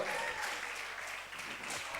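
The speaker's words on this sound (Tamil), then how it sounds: "கைதட்டுக பார்க்கலாம்." Steady applause from a church congregation, a continuous wash of clapping that holds at an even level throughout.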